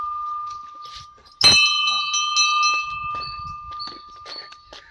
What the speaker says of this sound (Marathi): इथे 1 घंटा आहे, घंटा वाजू मित्रांनो